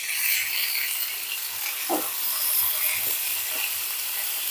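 Chopped green beans and onions sauté in hot oil, giving a close, steady sizzle and hiss with a few soft stirring knocks scattered through; no one speaks.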